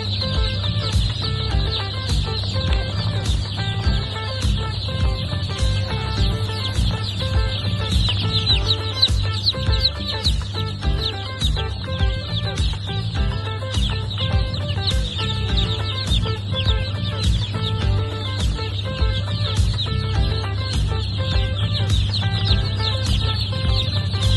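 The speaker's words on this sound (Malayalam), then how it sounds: "ഇവയാണ് സാസോ കോഴിക്കുഞ്ഞുങ്ങൾ." Many Sasso chicks cheep constantly in a dense, high-pitched chorus, close and unbroken, with faint soft clucking and a low steady hum underneath.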